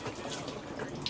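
Water sprays and splashes from hot tub jets in a steady, close hiss with bubbling texture, brief and fairly quiet.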